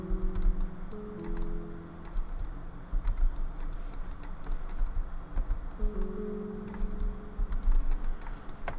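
Computer keyboard keys pressed while working in Maya 3D software, scattered clicky taps and short bursts of typing at close range over a low background hum, with no talking.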